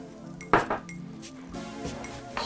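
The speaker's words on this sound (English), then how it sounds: "Got some butter I'm gonna add to the pot." Butter dropped into a pot of dried-out potatoes, with a sharp clank of a utensil on the pot followed by a few lighter clinks and soft scraping, close and fairly quiet.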